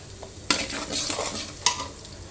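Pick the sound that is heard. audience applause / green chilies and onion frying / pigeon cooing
green chilies and onion frying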